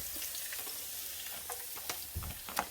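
Onions frying in hot oil in a pan for drunken noodles, a soft continuous sizzle with scattered crackles and spatters growing a little sharper toward the end, quiet and close with no talking.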